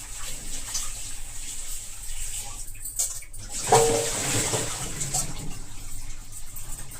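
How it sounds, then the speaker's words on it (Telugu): Malabar spinach leaves washed under running tap water, a steady close splash and rush of water with a brief dip partway through, no talking. "నేను ఒక 2-3 టైమ్స్ కడుగుతున్నాను"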